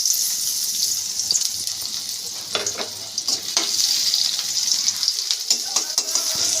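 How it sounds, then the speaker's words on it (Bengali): Onions and green chilies frying in oil left over from frying fish, for a Bengali fish curry with vegetables: a steady, bright sizzle with scattered stirring clatters and scrapes, close and fairly loud. "এই তেলের মধ্যে আমি মশলা কষিয়ে নেব"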